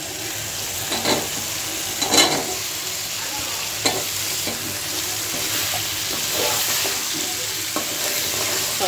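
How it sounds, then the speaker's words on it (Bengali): Cucumber, potato, dried shrimp and onion stir-fried together in hot oil give a continuous close sizzle, broken by several sharp scraping strokes of a spatula against the pan at irregular intervals. "শসাটা দিয়ে আলু, চিংড়ি শুটকি, পেঁয়াজ সব কিছু একটু একসাথে কষিয়ে নিচ্ছি।"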